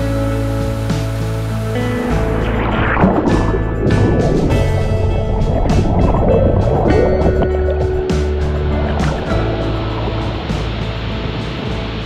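Water cascade in Litchfield National Park flowing hard, a dense, loud, continuous roar with rushing wash throughout, heard close.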